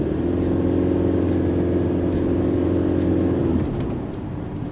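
A Kia Carnival engine runs steadily under load while driving up a hill through a tunnel approach, a continuous close drone from inside the cabin that eases off near the end.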